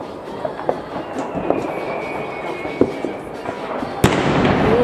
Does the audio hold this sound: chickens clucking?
no